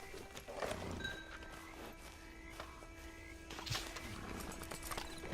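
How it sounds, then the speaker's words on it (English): Hooves clip-clop at a slow walk in the video game Red Dead Redemption 2 Online, steady and moderately close, with a horse snorting and faint ambient tones in the background. "Get on the horse there."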